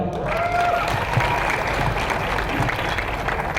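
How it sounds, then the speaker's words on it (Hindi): A crowd at a national-stage business event in Bhilwara claps steadily, a dense wash of applause holding at an even loudness throughout. "तालियां हो जाए जोरदार।"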